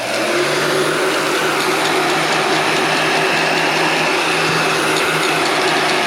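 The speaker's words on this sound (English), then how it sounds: "The heat gun is gonna go ahead and shrink all of this up for us." A heat gun blows constantly while shrinking loose plastic wrap on a Risk board game box, a loud steady whooshing fan-and-heater roar held at close range without pause.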